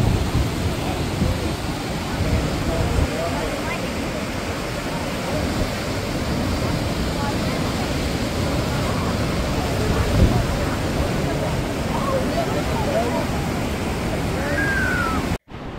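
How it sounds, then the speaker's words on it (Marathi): Huka Falls on the Waikato River in New Zealand roars in a constant, powerful rush of cascading water, loud and close, with crowd voices faintly mixed in. "आवाज बघा केवढा येतोय धबधब्याचा. हे बघा, हा जबरदस्त जोरात वाहतोय."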